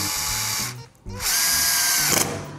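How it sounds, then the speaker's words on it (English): A power drill bores holes through a scooter deck for deck pins, its motor whining loud and close in two bursts separated by a short pause, the pitch shifting as the bit bites into the metal. "just kind of let the drill bit do its work"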